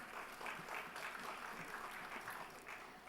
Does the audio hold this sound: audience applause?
yes